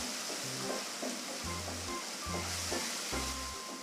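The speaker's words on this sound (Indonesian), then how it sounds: "Kemudian tumis sebentar sampai tercampur dengan bawang bombay." Onion sizzles with oyster sauce and sesame oil in a hot pan, a steady soft frying hiss with recurring low scraping stirs at a close, quiet level.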